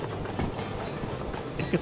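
Heavy freight cars roll along rails in the railway simulator Derail Valley, a steady low rumble with faint clicking, with brief louder knocks near the end.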